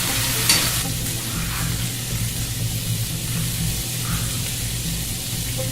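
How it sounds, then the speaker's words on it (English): Lemon juice, about two tablespoons, hissing in a hot pan used for fish, a loud steady sizzle with a sharp spatter right at the start, close and continuous. "Glaze the pan with a little lemon juice, about 2 tablespoons or so."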